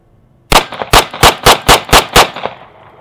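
A Remington R1 1911 Ultralight Executive .45 pistol fires seven loud, close shots in a steady, evenly spaced string, emptying a single-stack magazine, followed by a brief fading ring.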